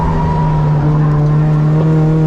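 A car engine on Sepang Circuit drones loudly and steadily under braking and a downshift from third to second, its tone dipping slightly as the revs change, recorded close from inside.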